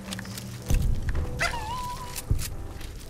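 Robotic dogs in Fallout New Vegas bark and yip in a few sharp bursts, with a whining whistle-like tone, amid game noise and no speech.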